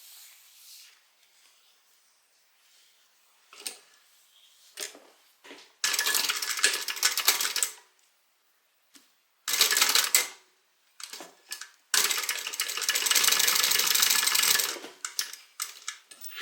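A sewing machine stitches the short ends of a bag strap together in several loud, rapid whirring runs. Quiet pauses and small handling clicks fall between the runs.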